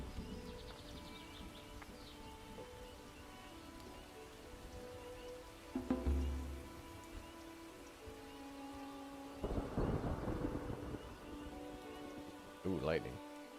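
A thunderstorm in the colony-building game Farthest Frontier: steady rain hiss underlies a deep thunder rumble midway, with further low crashes later, while someone talks over it now and then.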